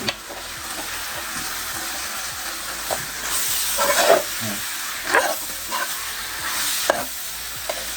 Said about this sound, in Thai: ใส่น้ำตาลนิดนึง เป็นคนชอบกินหวาน เสร็จแล้วก็คนเลย